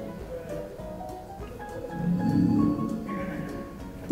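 Exterior lock chime of a 2024 Mercedes-Benz EQE SUV electric SUV: a soft, futuristic tonal sequence of several notes swelling over about four seconds, ending in a short click, with no talking.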